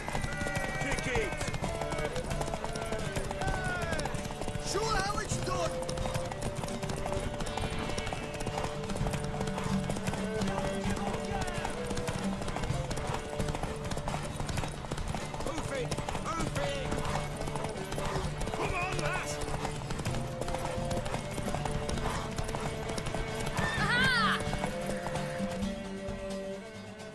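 A horse gallops with hooves clip-clopping steadily in The Witcher 3 video game, with occasional whinnies and game music underneath throughout.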